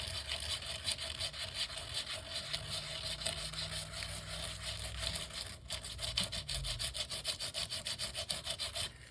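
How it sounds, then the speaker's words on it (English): Craft paper being sanded by hand in a grunge-style paper craft, a continuous close rubbing rasp with rapid back-and-forth strokes at a low, even level, no voices. "It just depends on how much you sand and what you have"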